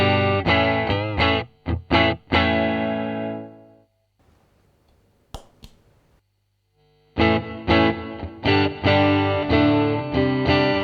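Dry electric guitar played through a Fender Pro Junior amp with no reverb, bright chords and single notes in two bursts separated by a few seconds of near-silence with faint string noise.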